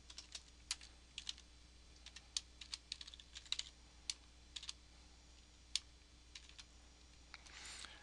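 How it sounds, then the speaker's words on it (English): Irregular, close key clicks from typing on a computer keyboard while writing HTML div sections, coming in short bursts and scattered single taps over a quiet room hum. "we're just typing in the structures, typing in each section."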